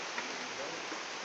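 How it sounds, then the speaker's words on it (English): Rain falls outdoors on a wet ground in May, a steady, moderately quiet broadband hiss with no clear breaks. "Then the rain started almost 15 minutes ago."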